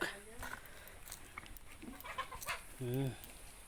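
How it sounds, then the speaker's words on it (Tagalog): Chickens cluck softly in the background over a low outdoor hum, with a few brief calls and a louder drawn-out squawk near the end. "Nandito na pala yung mga manok."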